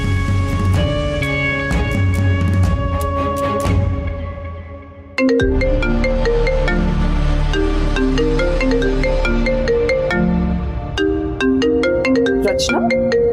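A phone ringtone plays a bright, repeating electronic melody, loud and close, with a short break around the middle before the tune starts again.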